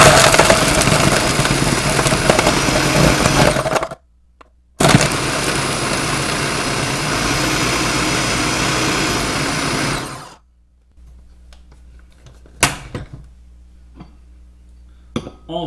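A blender whirs steadily as it churns a peach daiquiri to slush, loud and close, in two long runs broken by a brief pause, then stops, followed by a few faint clinks.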